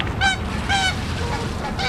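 Canada geese honk in a few loud, close calls, each a short harmonic burst spaced apart over steady outdoor background noise, with no talking.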